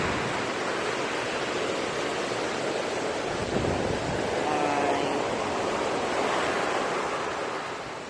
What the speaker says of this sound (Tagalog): Oh, lalaki ng alon.